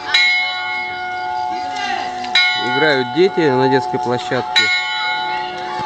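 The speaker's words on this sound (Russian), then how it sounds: "церковь отбивает колокола." A village church in Kastraki, Greece, rings its bells at nine o'clock: loud, resonant strikes about every two seconds, each leaving a long humming ring, while a person speaks over them.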